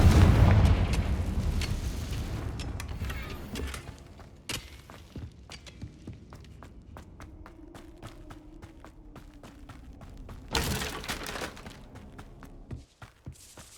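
A Confringo fire spell detonates in Hogwarts Legacy with a loud booming blast that fades over a few seconds, followed by scattered game impacts and footsteps and a second burst of noise later on.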